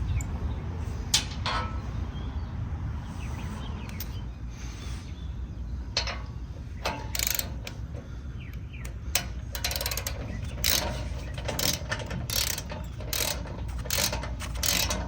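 A ratchet tightens nuts and bolts on a GoRhino Rockline Stubby steel bumper being installed on a Jeep, giving repeated quick clicking bursts at close range over a steady low workshop background.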